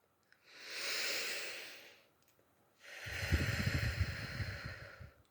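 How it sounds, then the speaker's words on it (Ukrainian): Two slow, deep breaths, each a long airy inhale through the nose followed by a fuller, rougher exhale through the mouth, close and quiet with brief pauses between. "Вдихаємо глибоко через ніс, а видихаємо повільно через рот."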